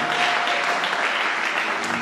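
A church congregation applauding and cheering as an evangelist walks past, dense sustained clapping from a crowd in a large hall, loud and continuous with some voices mixed in.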